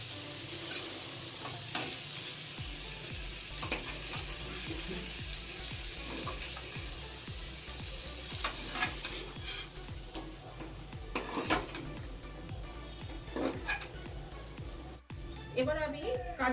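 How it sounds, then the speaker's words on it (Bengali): Tomato, capsicum and peas sizzle as they stir-fry in a pan, with frequent spatula scrapes and light clinks of metal, while a person talks over the cooking. "টমেটো, ক্যাপসিকাম, মটরশুঁটিগুলো আমার ভাজা হয়ে গেল"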